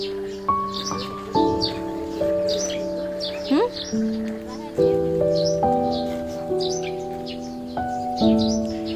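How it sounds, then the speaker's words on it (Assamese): Busy chirping and tweeting of several birds around a house fills the background, over sustained low tonal notes, with a few short voice-like sounds mixed in. "আমাৰ ঘৰত পিছে বহুত চৰাই চিৰিকটি মাত শুনিবলৈ পাব আপোনালোকে।"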